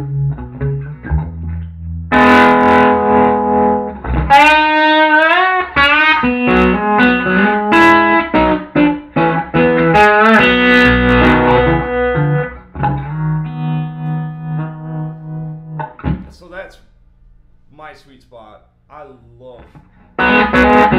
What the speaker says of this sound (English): We're gonna go to the highest gain setting on the low channel, and yeah, this has some other reverb and tremolo in it too.